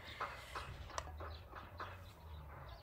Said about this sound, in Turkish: Kuş sesleri, arı sesleri, böcek sesleri.